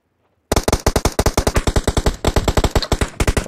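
Rapid automatic gunfire in the mobile battle royale game PUBG Mobile, a loud, close, evenly spaced burst of about thirty shots after a brief silence, with no talk over it.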